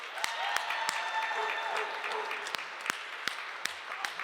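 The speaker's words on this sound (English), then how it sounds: "Y'all give him and his wife a round of applause." A crowd at a Black Entrepreneurs Day gathering at a state Capitol gives a sustained round of applause, dense clapping at an even level punctuated by several loud, close individual claps.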